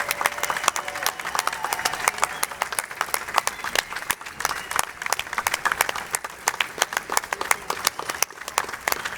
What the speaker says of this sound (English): let's give it a round of applause for the newest members of our United States Army